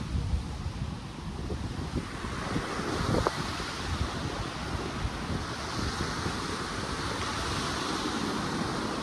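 Steady roar of sea surf washing continuously at a beach in Virac, Catanduanes, mixed with wind buffeting the microphone, with no clear break between waves.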